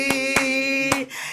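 A worship congregation claps along to a song, three sharp, evenly spaced claps ringing out over sustained musical tones.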